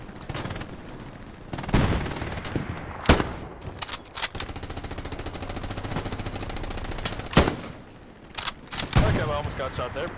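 Gunfire in the Hell Let Loose war game, sharp near rifle cracks scattered over ten seconds with bursts of machine-gun fire, some shots loud and close and others more distant, while a voice talks in between.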